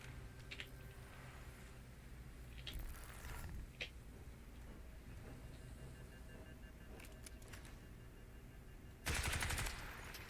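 Video game gunfire crackles in scattered rapid bursts over a steady background hum, with a brief flurry near the middle and a loud, dense burst close to the end.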